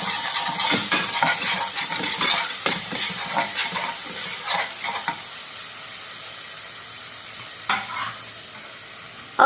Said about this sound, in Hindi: लहसुन सौते हो जाए कि हम 1 चम्मच जितनी मिर्ची और अदरक का पेस्ट डाल देंगे। इसे भी अच्छी तरह से सौते करेंगे।